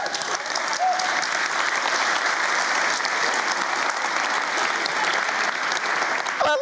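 A startup talk audience breaks into loud, sustained applause mixed with crowd noise, an unbroken wall of clapping through the whole stretch with no speech over it.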